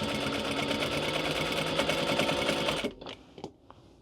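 A sewing machine stitches through layers of a minky blanket, its fast, steady whirring loud and close for nearly three seconds before stopping abruptly, leaving a few faint handling sounds.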